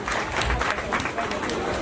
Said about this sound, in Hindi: आप अपने लिए जोरदार तालियां बजाइए